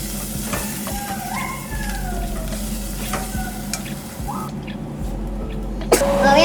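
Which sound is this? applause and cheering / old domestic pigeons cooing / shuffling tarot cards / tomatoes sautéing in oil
tomatoes sautéing in oil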